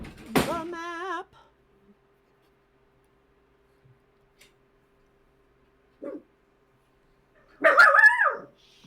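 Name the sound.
dog barking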